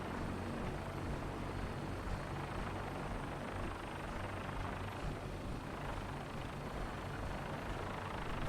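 A Vertibird aircraft in Fallout 4 drones continuously, a steady rotor and engine roar with dense low rumble, sustained and even throughout with no voices over it.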